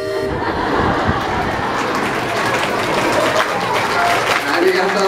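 Steady, loud applause from an audience at an outdoor seal show in Miyajima, Hiroshima, Japan, a dense continuous clapping of many hands filling the whole stretch.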